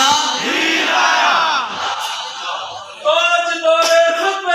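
A large crowd at a religious conference bellows a slogan in unison, a loud surging roar, then a leader's call draws a second sharp collective shout.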